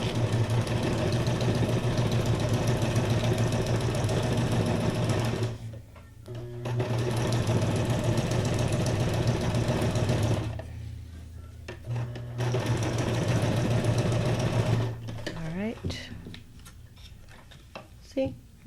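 Sewing machine running a messy straight stitch around junk journal pages, with steady mechanical whirring and ticking in long runs broken by short pauses, close and fairly loud, with a voice talking over parts of it.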